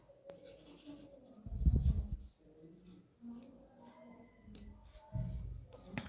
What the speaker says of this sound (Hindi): इसको साफ लिखते हैं.